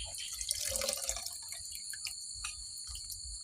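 Curry paste is ladled and scooped into cold water, giving splashing, dripping and trickling liquid sounds close by, busiest at first and then settling into scattered drips.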